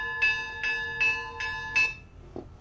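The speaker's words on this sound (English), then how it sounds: "that's the bells of Simona Petra" Church bells of the Simonopetra monastery ring out in five evenly spaced, clear metallic strikes with bright ringing overtones, at moderate distance, followed by a faint knock.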